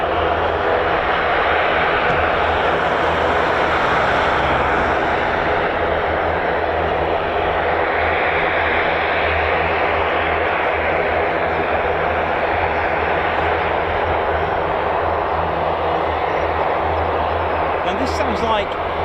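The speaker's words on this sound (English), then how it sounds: "this sounds like the C-146, I think" A US Air Force C-146 Wolfhound aircraft drones on with a broad, steady engine roar that holds loud and unbroken throughout, with no other sound standing out.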